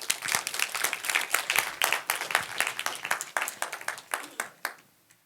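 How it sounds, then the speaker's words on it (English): An audience at a 2015 motivational talk claps for two people: a lively, continuous burst of many hands clapping close by that tapers off at the end. "Can y'all clap it up for those 2?"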